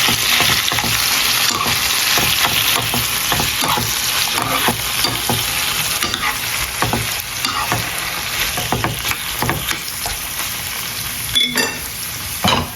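Mushrooms sizzle steadily in a pan while being frying for a gourmet sandwich, a loud continuous crackle broken by the scrape and clatter of stirring throughout, with no voices.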